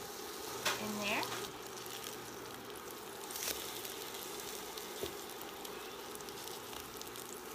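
French toast fries in butter in a Copper Chef pan with a soft, steady sizzle and light crackle, fairly quiet throughout, with a brief scrape or clink near the beginning.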